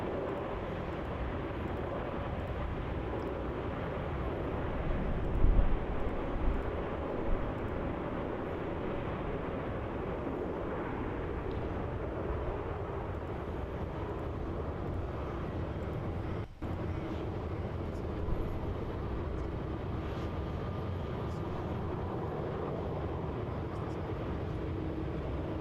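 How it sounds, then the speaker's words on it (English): An airliner touching down and rolling out on the runway at Melbourne Airport, a broad sustained engine roar heard from a distance, steady and unbroken for the whole stretch, with no voices. "There it is, a smooth touchdown."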